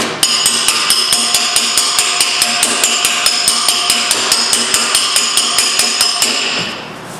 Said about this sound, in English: You want to be able to hear that ding, okay? That hammer on dolly.